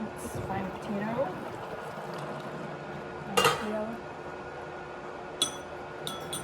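A spoon scrapes and clinks around a pot of Thai red curry with potatoes, stirred in short bursts with a few sharp metallic knocks against the rim, close by in a quiet kitchen.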